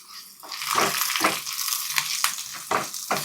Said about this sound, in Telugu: కొంచెం కరివేపాకు కూడా కలర్ చేంజ్ అవ్వాలండి క్రిస్పీగా అవుతుంది